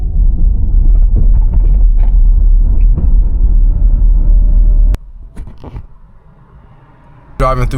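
A car drives through Golden Gate Park in San Francisco, a loud low road rumble from inside the cabin that drops away sharply after about five seconds, leaving quieter thumps before a brief burst of noise at the end.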